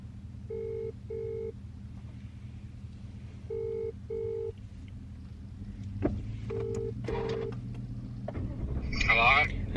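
Phone ringback tone while calling Daddy: three pairs of short electronic rings with pauses between them, steady and clear over low car-like rumble, followed by a voice answering near the end.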